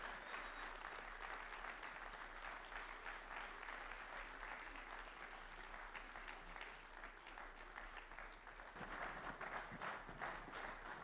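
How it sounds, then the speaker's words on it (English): An audience at a male students of color summit in Maryland applauds a keynote speaker with sustained, dense clapping from a large crowd that continues steadily throughout and swells slightly near the end. "clap it up for our keynote speaker, Mr. Jorge Sierra."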